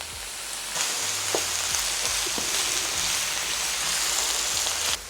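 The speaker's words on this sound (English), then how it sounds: "So you're just going to cook this until the mushrooms start to brown" Sliced mushrooms and onion fry in a pan with a steady, close sizzle, broken by a few soft clicks from stirring.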